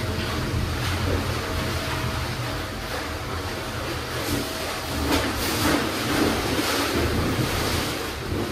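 Water rushing into the box at a hydro dam gate, filling it to equalize pressure on both sides of the gate; a steady, broad outdoor roar with wind buffeting the microphone, no talk.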